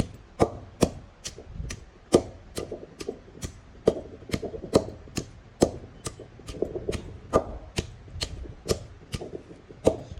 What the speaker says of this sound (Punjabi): ਨਮਕ ਨਾਲ ਆਪਣੇ ਗੰਡੇ ਜਿਹੜੇ ਨੇ ਜਲਦੀ ਕੁੱਟੇ ਜਾਂਦੇ ਨੇ